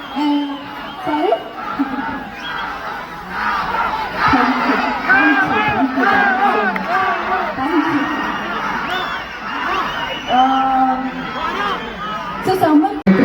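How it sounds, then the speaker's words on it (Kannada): A large crowd at a Kannada stage event with two performers, a dense roar of shouting and cheering voices that swells and holds, with individual whoops and talk rising out of the din. "ಆ್ಯಂಡ್ ಸಿಕ್ಕಾಪಟ್ಟೆ ಕ್ರೌಡ್ ಇದೆ"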